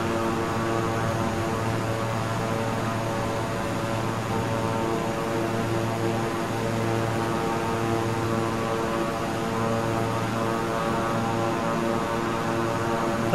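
Steady, unbroken drone of a Beechcraft 350i King Air turboprop engine in Microsoft Flight Simulator during a descent, a constant whirring hum with a noisy wash and no voices.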